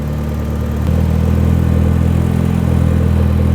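A BMW E30 M3 engine idles steadily with a low, even drone and a slight mechanical clatter, rising a little in level after the first second as the throttle is adjusted, with no voices.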